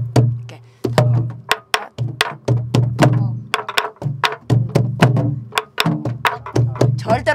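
A Korean buk barrel drum is beaten in a traditional rhythm, with sharp rim clicks and deeper booming strokes in a quick repeating pattern, close and loud, alongside steady low tones.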